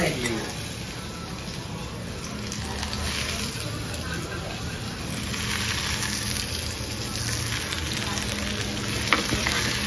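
Tomatoes and onion sizzle steadily in a small pan for khichdi over low heat, a close bright crackle with occasional stirring and someone talking over it.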